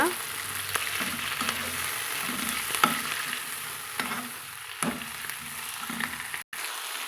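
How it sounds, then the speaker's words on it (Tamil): Manathakkali greens, freshly cleaned, are sautéed and stirred in a pan, a continuous close sizzle broken by regular spatula scrapes and taps and one brief dropout near the end; no talk. "இது கூட சேர்த்துக்கிட்டு வதக்கி விட்டுக்கலாங்க"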